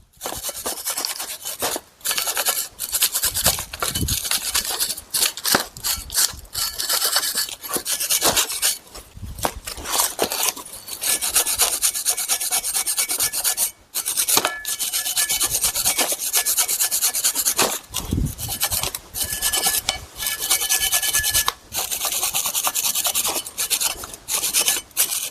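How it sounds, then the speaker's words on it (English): Wire brush scrubs hard and loud against the corroded steel brake caliper bracket of a 2014-2020 Dodge Durango RT, in long repeated rasping strokes with brief pauses between bursts. "take a wire brush, and you want to get all of this corrosion off of these areas"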